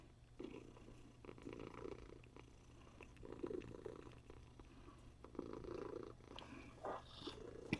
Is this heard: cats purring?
yes